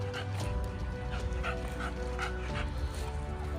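An 11-month-old dog barks, yips and whimpers outdoors, repeated close, excited calls.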